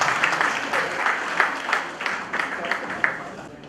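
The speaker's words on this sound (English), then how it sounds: "Please put a round of applause for Mr." An audience at a business conclave for small enterprises applauds to welcome a speaker, a brisk, sustained round of clapping from a moderate crowd, close and even, gradually easing off.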